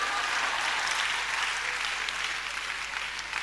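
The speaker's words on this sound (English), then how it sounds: "You better clap because it's the truth." Steady audience applause fills a hall during a sermon-style talk, a dense even patter of many hands clapping at once, holding at a moderate level before easing slightly toward the end.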